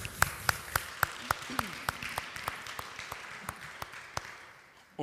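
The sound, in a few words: applause in church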